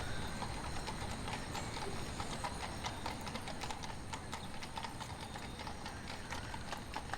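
Horse hooves clip-clop steadily throughout a scene in the video game Gold Rush, with a continuous rhythmic clatter at moderate volume and no talking.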